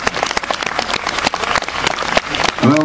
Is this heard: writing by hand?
no